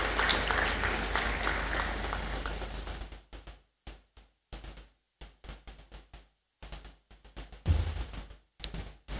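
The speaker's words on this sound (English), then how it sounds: "I would like all of us to warmly applaud our hard-working teams." An audience applauds the teams at a congregation ceremony in a great hall, full clapping at first that breaks off after a few seconds into scattered, intermittent claps and knocks.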